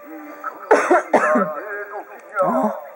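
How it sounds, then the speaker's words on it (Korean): A woman gives a few short, raspy coughs close by indoors, mixed with brief vocal sounds. "어, 엄마 기침해."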